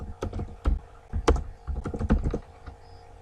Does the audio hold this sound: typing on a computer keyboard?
yes